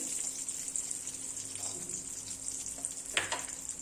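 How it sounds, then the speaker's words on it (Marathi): Raisins fry in half a spoon of ghee in a kadhai, giving a steady, close hiss with faint stirring scrapes and one sharper scrape near the end. "त्याच कढईमध्ये मी फक्त अर्धा चमचा तूप घालून घेते आणि त्यामध्येच हे बेदाणे"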